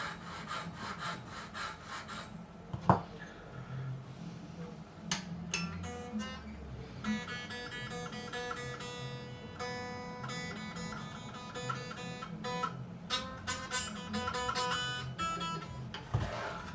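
Small 10 and 13 nut files rasp back and forth, cutting string slots into the nut of a Squier Affinity Telecaster, a close, quiet, gritty scraping in quick strokes with brief knocks between.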